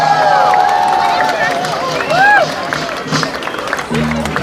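Crowd applause and cheering at a night Giglio lift during the OLMC Feast in New York, honoring the Giglio singer and band; a broad, steady wash of clapping with whistles rising over it, fairly loud throughout.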